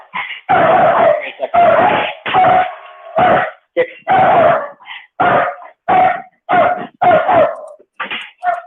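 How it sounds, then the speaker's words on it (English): A dog barks repeatedly outdoors as a warning that people are approaching, loud close bursts in an irregular run of about a dozen barks. "Dog out here letting me know if people are coming"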